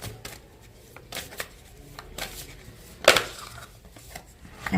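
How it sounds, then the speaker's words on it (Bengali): A deck of cards is handled close by, with soft riffling and brushing, a few light taps, and one sharper crisp flutter as cards are shuffled and drawn, fairly quiet overall. "আমি এখান থেকে 4টে কার্ড নেব।"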